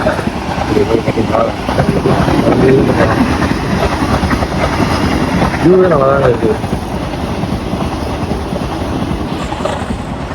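A train rumbles and clatters past nearby in Kerala with steady wind buffeting, while people talk over it.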